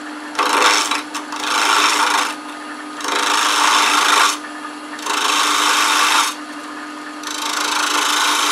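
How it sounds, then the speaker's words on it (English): A spindle gouge shapes a wooden box body on a lathe in a workshop, producing loud, sustained scraping cuts that come in passes of about one to two seconds over a steady motor hum. "So we're going to use the spindle gouge."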